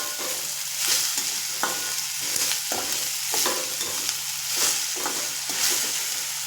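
Mixed vegetables fry in hot oil with salt for rava upma, giving a continuous loud sizzle with rhythmic spoon stirs and scrapes repeating through the whole stretch.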